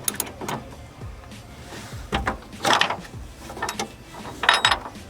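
A ratchet tightens bolts on a racing harness, giving irregular bursts of quick mechanical clicks and clanks separated by short pauses, close and fairly loud.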